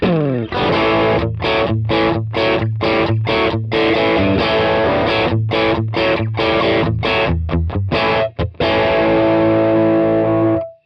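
An overdriven Telecaster-style electric guitar plays chopped, punchy chords in a steady rhythm, then lets a final chord ring out.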